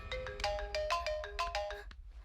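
A phone ringtone chimes in a quick melodic pattern of bright electronic tones, repeating for a couple of seconds before stopping, close and clear with no talk over it.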